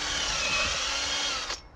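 A power drill bores a pocket hole into pallet wood, its steady whine running loud and continuous up close for almost two seconds before cutting off abruptly near the end.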